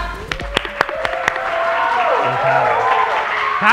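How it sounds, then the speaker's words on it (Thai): Audience applause at an evening celebration party for a million followers, dense clapping sustained throughout with a few sharper claps near the start and music or voices mixed underneath. "เสียงปรบมือให้กับคุณแพรพลอยด้วยครับ"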